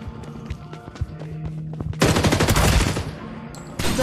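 Dense burst of automatic gunfire in an online multiplayer shooter, a roughly two-second loud volley after scattered lighter shots and game sounds, with another burst starting at the end; no talking.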